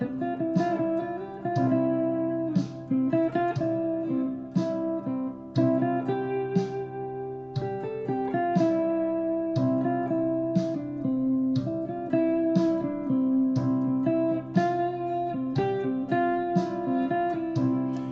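Plucked guitar notes and chords, moving between the 3rd and the 4th over a sus4 chord, ring out at a moderate pace, with short pauses between phrases, played clearly and alone.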